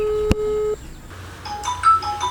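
A telephone call plays out: a held electronic tone with a sharp click, then a patterned ringback sequence of repeated beeping tones, fairly loud and close.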